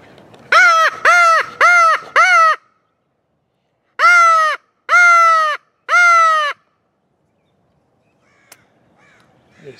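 A flock of crows caws loudly about 100 feet overhead: a quick run of four harsh caws, a pause, then three longer, drawn-out caws, with quiet rustling afterward.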